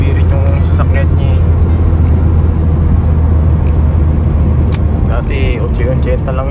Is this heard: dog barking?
no